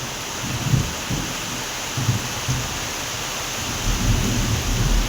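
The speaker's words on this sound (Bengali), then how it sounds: "সাংঘাতিক লেভেলের বৃষ্টি রে বাবা। মেঘ ডাকছে।" Steady heavy rain hisses throughout while low thunder rumbles roll in and out beneath it.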